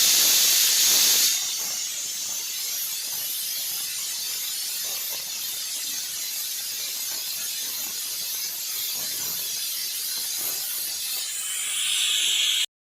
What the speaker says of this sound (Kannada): ಮಟನ್ ಸಾಂಬಾರು ಆಗಿರೋದ್ರಿಂದ 5 ರಿಂದ 6 ವಿಷಲ್ ನಾನು ಕೂಗಿಸ್ಕೋತಾ ಇದ್ದೀನಿ